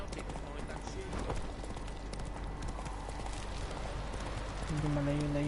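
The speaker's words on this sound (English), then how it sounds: "takbo ni Roach" Hooves of the horse galloping in The Witcher 3 give a fast, steady clip-clop rhythm through the whole stretch, close and moderately loud, with a voice heard over it near the end.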